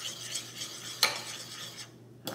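A milk mixture stirred into a flour mixture for healthy cinnamon scones: soft, close stirring scrapes with one sharp utensil clink against the bowl partway through, quiet and without voices.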